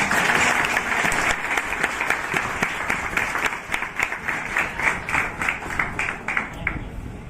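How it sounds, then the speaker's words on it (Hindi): An audience claps to welcome a guest at a Har Ghar Tiranga celebration program, a full, sustained round of applause that thins toward the end into more separate, rhythmic claps. "तो आओ हम सब मिलके उनका जोरदार तालियों से स्वागत करते हैं।"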